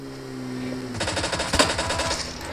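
Rapid automatic gunfire from the mobile battle royale game PUBG Mobile, a sustained burst of loud, closely spaced shots starting about a second in, following a quieter stretch of game background noise.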